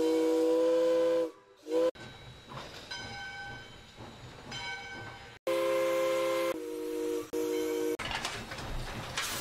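Steam whistle of a heritage steam train in the Snowrunner game, sounding in long, loud, sustained blasts with brief breaks, over rumbling rail noise.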